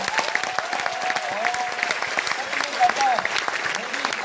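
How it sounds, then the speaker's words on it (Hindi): Enthusiastic clapping from an audience cheering a leader at a business gathering, irregular and moderately loud, with music or voices running underneath. "तो आपके ग्रेट लीडर के लिए एक जोरदार ताली होनी चाहिए"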